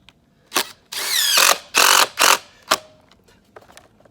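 Power drill driving 1 1/4 inch screws into wood, several short bursts of whirring with rising pitch, close and loud, with brief quiet gaps between them.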